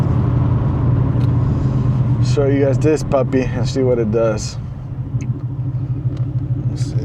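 A Ford Mustang with a Corsa double-edge exhaust and muffler delete idles with a deep, loud burbling rumble throughout, under a voice speaking briefly.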